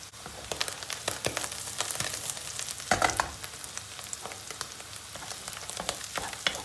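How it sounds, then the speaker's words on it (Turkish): Red chili powder and chili flakes fry in hot oil, giving a steady close crackle with scattered sharp pops and a brief louder burst midway; no one speaks. "Toz biberle, pul biberle bunu güzelce bir yakacağız önce."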